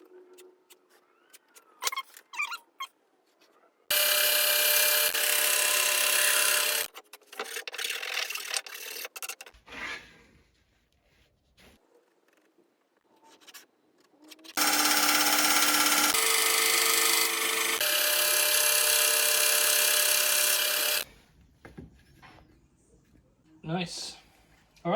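A power tool cutting a socket hole out of wooden wall panelling, two long loud rasping bursts of several seconds each, separated by quieter handling noises and brief talk.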